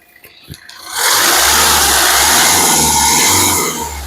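A 2015 Hyundai i20 Sportz engine kicks in after a few soft clicks and revs hard, holding a loud steady roar for a few seconds before easing off.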